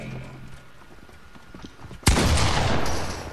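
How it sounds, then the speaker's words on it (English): Gunfire in the Fortnite video game: a sudden loud burst of shots breaks in partway through and holds as a dense crackle, following a quieter stretch of background game sound. "he just shot at me"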